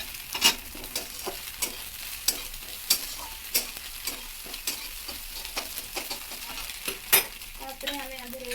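Onion and egg fry and sizzle in a pan under repeated spatula scrapes and taps, a soft steady frying hiss punctuated by regular stirring clicks.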